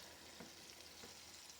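Onions frying in a pan give off a faint, steady crackling sizzle with soft stirring ticks, quiet and close, with no voices.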